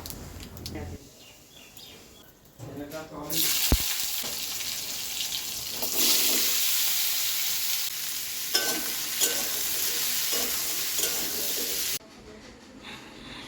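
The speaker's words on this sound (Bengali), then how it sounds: "মিষ্টি কুমড়া আর করলা কেটে নিয়েছি একসাথে ভাজা করব" Chopped pumpkin and bitter gourd frying together in a home kitchen pan: a loud, steady sizzle holds for several seconds while a spatula stirs and scrapes, then it cuts off abruptly, close to the microphone.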